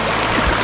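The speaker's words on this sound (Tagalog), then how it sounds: "Tapos sobrang banayad lang yung tubig, di siya malakas, di siya mahina." Gentle, steady stream water from Linasin Falls in Pundaquit, San Antonio, Zambales, flowing softly and continuously close by, a mild babbling wash with no voices.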